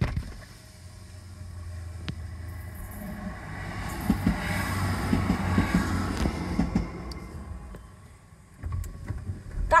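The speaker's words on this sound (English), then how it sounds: "That was the sound of a train coming past." A train passes a waiting car, its rumble and clatter swelling over several seconds to a peak with rhythmic wheel clicks, then fading away, with no talking.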